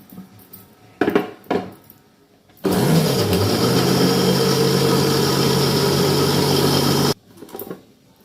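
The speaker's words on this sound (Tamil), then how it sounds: "ஒரு பத்து செகண்ட் அரைச்சி எடுத்துக்கலாம் நைஸாக ஆகட்டும் கொஞ்சம்" A mixer grinder whirs loudly and steadily for several seconds grinding chutney, bracketed by a few clinks and knocks of the jar before and after.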